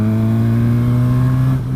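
An inline-four motorcycle engine drones steadily at a held pitch as the throttle is opened in fifth gear at low revs, loud and close, then eases off briefly near the end.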